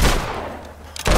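Gunfire in the video game Fable II, a loud burst at the start and another at the end, with a dense crackling rumble of battle between them.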